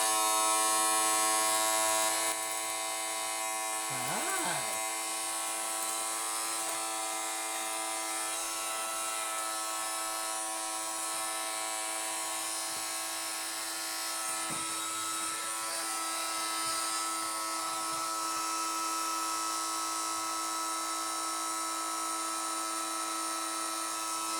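A steady high-pitched motor whine from a Henry cordless vacuum cleaner with a faulty-sounding motor runs continuously, with a slight shift in pitch partway through and no voices.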